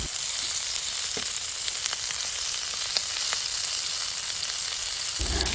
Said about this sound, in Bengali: বেশ কিছুক্ষণ সময় নিয়ে উল্টে পাল্টে দুই পাশে ভালোভাবে ভেজে নিতে হবে।